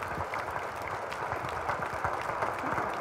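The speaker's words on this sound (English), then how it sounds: "and give her a round of applause." A city audience applauds at a State of Our City address, a loud, dense wash of many hands clapping steadily and close, holding at an even level for a few seconds without speech.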